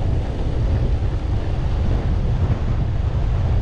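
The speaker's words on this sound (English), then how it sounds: "Yeah, the wind is bucking me." Heavy wind roars into the microphone while riding a Possway T3 electric skateboard outdoors, a steady, loud, rumbling buffet that never lets up, with no speech.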